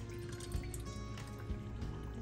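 Liquid drips and trickles as water is drained off raw pork, a faint wet dribbling heard close up with nobody talking.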